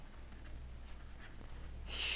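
A pen scratches out a math question statement in short, faint, close strokes for about two seconds, ending in a brief louder rustle.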